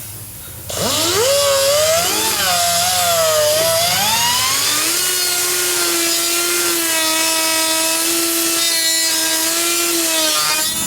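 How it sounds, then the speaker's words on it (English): A power grinder cuts rivets off a plate on a Yamaha YZ125 two-stroke engine: a loud, continuous whine that spins up and wavers in pitch under load, then settles into a steady high drone. "we've got the rivets ground off"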